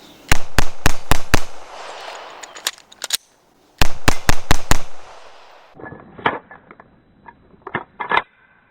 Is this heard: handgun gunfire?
yes